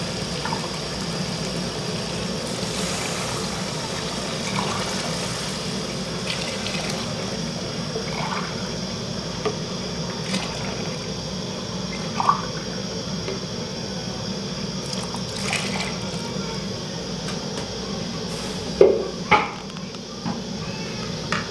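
Water poured into a cooking pot of fried chickpeas for chana pulao, a steady splashing, bubbling flow with a few clinks near the end.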